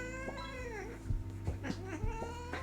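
A pet cat lets out a drawn-out, wavering meow that rises and falls, followed by shorter yowls. The cries are fairly close and stand alone against a low background hum.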